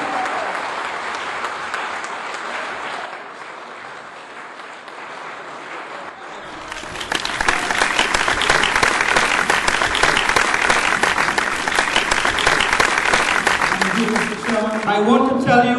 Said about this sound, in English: you deserve a round of applause for yourself